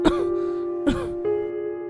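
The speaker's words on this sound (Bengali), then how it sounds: "তোমার তো বেশ কাশি বেড়েছে" An elderly mother coughs in a cartoon, two harsh throat-clearing coughs about a second apart followed by a softer catch of breath, close and dry over a steady low hum.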